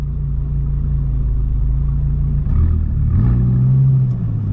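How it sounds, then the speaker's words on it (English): A Viper V10 supercar idles with a loud, deep, steady engine rumble close by, then the engine note shifts and rises midway as the clutch is released and the car pulls away. "All right, foot off the clutch."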